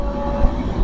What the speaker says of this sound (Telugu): అంత స్పీడ్ అయితే వెళ్ళిపోయింది ట్రైన్.